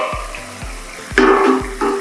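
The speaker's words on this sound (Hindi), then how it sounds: "तब तक इस मसाले को भूनते जाइए।" Spice masala for a fresh turmeric vegetable dish frying in a pan, a close, loud sizzle with spatula scrapes and stirring, a brief sharp clatter near the middle, and low rhythmic thumps underneath.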